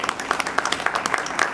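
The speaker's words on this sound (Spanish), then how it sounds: "Vamos a darle un aplauso." A small audience claps for the artists of Algarro Comics at a comic event, scattered, close handclaps forming a short, uneven burst of applause without voices.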